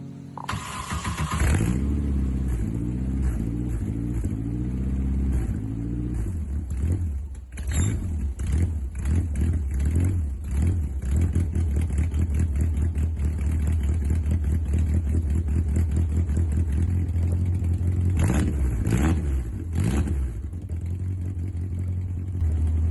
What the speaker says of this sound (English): I'll try to start it and run it without the intake on it and see what happens.